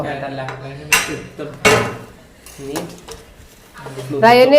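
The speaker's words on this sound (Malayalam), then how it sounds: "രണ്ട് പാത്രം കൂടെ എടുത്തു വെച്ചിട്ട് തന്നെ വിളമ്പിത്തിന്നു കേട്ടോ" Plates and dishes clattering as they are set out to serve dum biryani, several sharp clinks and knocks close by, with a person talking between and over them.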